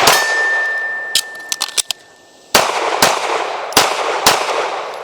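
Pistol shots ringing off steel targets on a shooting range, each sharp crack followed by a bright metallic ding, a quick cluster of hits and then several evenly spaced shots with clangs, with no talk.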